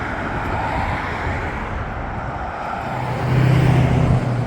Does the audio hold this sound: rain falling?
no